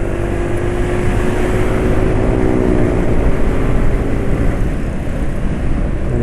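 A motorcycle engine running on Federal Supreme XX oil drones loud and close as it accelerates, a dense steady roar with a faintly rising tone throughout.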